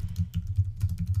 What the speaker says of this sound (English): I'm just typing this in as we go